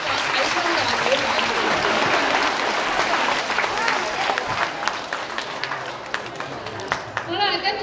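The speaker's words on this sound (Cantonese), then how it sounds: "啲掌聲去鼓勵我哋呢班未來嘅香港體操代表隊。" A crowd claps steadily for a young Hong Kong gymnastics team at a children's performance show. The dense applause is loud at first, then thins and eases, with voices chattering through it.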